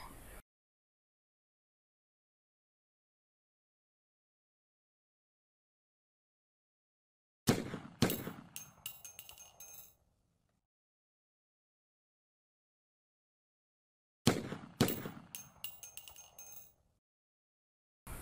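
A gunshot sound effect placed after a second shot in a special-effects edit: two sharp, loud reports several seconds apart, each followed by a short decaying tail, with silence between them.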